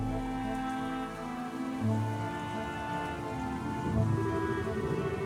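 Steady rainfall from the video game Trails in the Sky the 3rd, a continuous hiss of rain under a low, droning music bed, with no voices.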